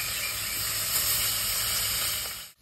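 Food frying in hot oil gives off a close, unbroken sizzling hiss that stops abruptly near the end.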